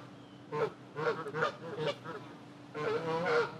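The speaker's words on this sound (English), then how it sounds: "That's birds. Seriously. They're having an argument. Geese." Several geese honking in loud, rapid bursts close by, overlapping calls with short pauses between them.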